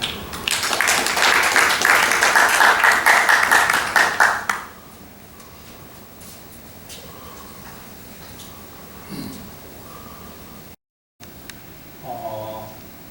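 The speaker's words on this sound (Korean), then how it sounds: "큰 박수로 모시겠습니다." Forum audience applauds a speaker introduced for a talk on the 40th anniversary of 5.18 and Gwangju: a strong burst of clapping for about four seconds, then it drops to a quiet room with faint scattered sounds.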